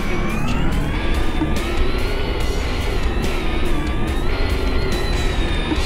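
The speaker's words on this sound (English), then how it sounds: "I'm really enjoying the sound of this car, dude." A car engine in the Roblox game Car Dealership Tycoon: a steady, loud droning engine tone with rising harmonics, running continuously for the whole stretch without talk.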